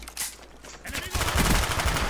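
Rapid automatic gunfire from the video game Black Ops 1 bursts in after a brief quieter lead-in, dense continuous shots that grow loud and sustained through the rest of the moment.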